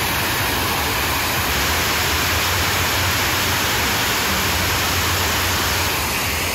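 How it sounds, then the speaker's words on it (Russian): A large park fountain with water splashing heavily, a loud, dense, unbroken rushing wash that continues steadily throughout, with no voices. "Посмотрите, какое фонтанище."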